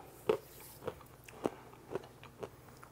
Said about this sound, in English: there's some pita chips. They're really crunchy